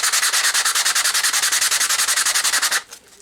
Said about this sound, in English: Just going to run it on the sandpaper.